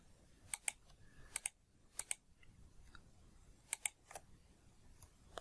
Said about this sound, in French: Il suffit juste de cliquer sur le bouton supprime dans le clavier.